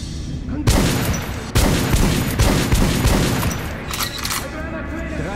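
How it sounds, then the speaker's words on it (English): Guns fire at a shooting range in the video game Metro: Last Light, with loud bursts of rapid shots, a pause, then another sustained volley that fades into lighter clatter and a voice. "head over to the range and try out those guns"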